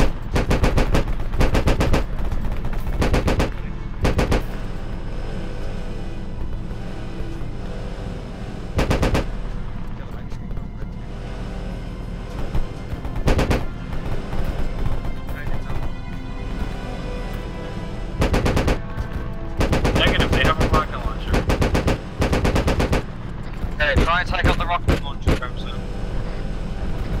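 A military video game firefight: loud, repeated machine-gun bursts and heavy launcher blasts come in irregular clusters, with voices talking between and over the shots.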